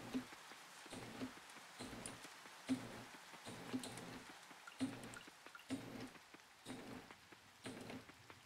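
Rain in the farming game Coral Island, a soft steady patter of drops on a surface, faint and continuous with light rhythmic pulses.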